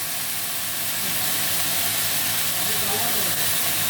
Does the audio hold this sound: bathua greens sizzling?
yes